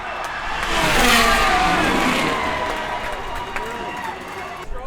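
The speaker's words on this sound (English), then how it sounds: "my favorite part is the safety car whipping out." An F1 safety car at the Melbourne Grand Prix accelerates past with a loud rising engine roar that swells and fades as it passes, crowd noise and voices from the stands in the background.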